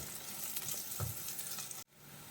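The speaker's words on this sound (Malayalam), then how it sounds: "ഇതും കൂടി ചേർത്തിട്ട് ഒന്ന് വഴറ്റിയെടുക്കാം" Vegetables and beans sautéing in a pan for restaurant-style veg noodles, a steady close hiss of frying with stirring scrapes, cutting off abruptly near the end before resuming faintly.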